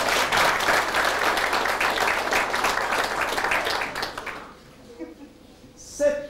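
An audience in a lecture hall breaks into loud, dense applause that lasts about four seconds and then quickly dies away, leaving a quiet room with a few faint sounds.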